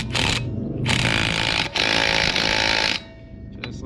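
A loud impact wrench drives a lug nut onto a Honda Ruckus wheel during a GY6 150cc engine swap, three close rattling bursts with brief gaps before stopping.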